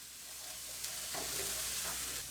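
Garlic dropped into a pan of nearly cooked onions, giving a close, steady frying hiss with a brief louder crackle as it goes in, no voices.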